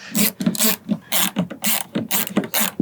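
Ratchet wrench cranking out the rear passenger grab handle bolts on a 6th-gen Ford Ranger, a close, loud run of rapid clicking bursts in steady repeated strokes with no talking.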